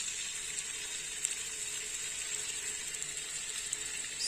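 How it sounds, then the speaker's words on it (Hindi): Golla kebabs frying in hot oil in a pan, a constant bright sizzling crackle with small pops scattered throughout, close and even, no talking. "पैन के अंदर कबाब डालेंगे।"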